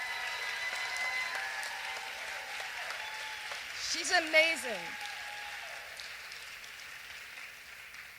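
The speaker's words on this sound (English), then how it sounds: "Let's give her a round of applause." A TEDx audience in Beverly Hills gives sustained applause, a soft steady hiss of many hands heard from a distance, while someone briefly speaks over it midway.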